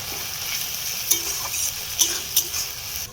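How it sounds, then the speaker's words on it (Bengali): Masala spice paste stirred and fried in a pan for a fish dish: a steady close frying hiss with a few sharp spoon-on-pan clinks near the middle and end. "সমস্ত মশলাটাই দিয়ে দিলাম খুব ভালো করে মিশিয়ে নেব"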